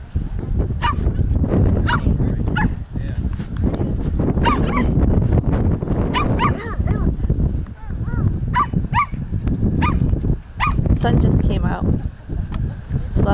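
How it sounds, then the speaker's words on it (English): At an outdoor dog park with many dogs, including a Pembroke Welsh Corgi, dogs run about and bark and yip again and again, with some whimpers. A person talks over the steady commotion. "Look at all the dogs running. Lots of dogs today."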